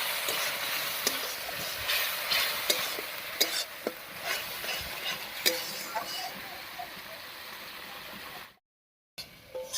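A spoon stirs cabbage masala with turmeric and salt in a frying pan, scraping steadily over a constant sizzle, with a brief dropout to silence near the end.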